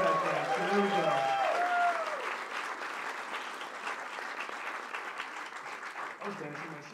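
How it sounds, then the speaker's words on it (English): An audience applauds student performers, sustained clapping filling the room from start to finish, opening under a brief voice and easing slightly in loudness toward the end. "Let's give another round of applause for the students."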